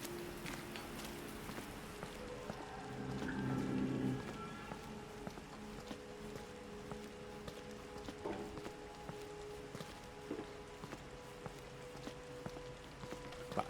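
Rain falls steadily in the Resident Evil 2 video game, a continuous soft patter with faint footsteps and scattered ambient tones, a brief louder swell of rumbling texture early on.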